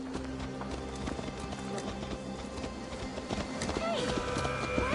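Horse hooves clip-clop at a steady riding pace in Assassin's Creed Valhalla, rhythmic and moderately close, with voices talking over the hoofbeats.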